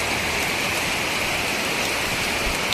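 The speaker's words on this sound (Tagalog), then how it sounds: "maulan nga, ang lakas ng ulan." Heavy rain in Bacolod pouring down steadily, a dense, loud hiss of drops hammering surfaces with no pauses and no talk.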